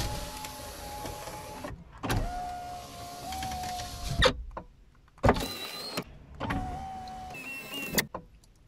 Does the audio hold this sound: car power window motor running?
yes